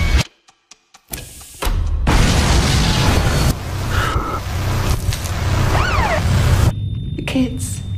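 Explosion effect in a TV series trailer: after a few faint clicks, a loud sustained boom and rumble roll through the scene, overlaid with whooshes and shifting effects, while people speak over it.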